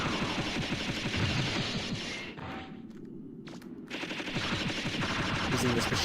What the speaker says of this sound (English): Using this machine gun.